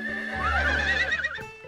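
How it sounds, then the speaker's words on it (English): Cartoon horses whinny loudly in a long, wavering call close by, with faint hoof clip-clops mixed in and no talking. "Our horses sure are noisy today."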